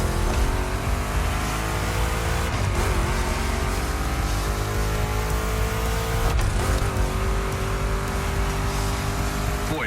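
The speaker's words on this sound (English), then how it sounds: "Two Chevys, two big blocks, but only one winner." Chevrolet big-block race cars roar in The Crew Motorfest gymkhana race, with loud continuous engine revving whose pitch climbs and dips through gear changes, plus brief tire squeals and no voices.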